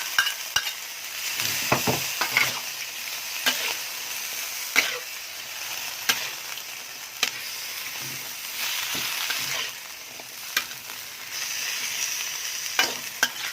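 Busy sizzling and scraping from a pan stir-frying Chaya leaves over high heat, with irregular clinks and stirring knocks over a steady frying hiss, close and moderately loud.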